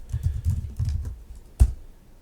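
A computer keyboard is typed on in a quick, close run of soft clicking keystrokes, ending with one sharper, louder key press followed by quiet.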